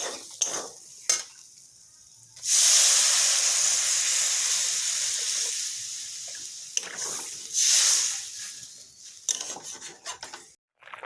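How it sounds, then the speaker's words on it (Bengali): Water goes into a pan of cooking paneer curry with spiced masala: two loud bursts of sizzling hiss, the first long and slowly fading, among close clinks and stirring scrapes. "এর মধ্যে আমি জল দিয়ে দেবো।"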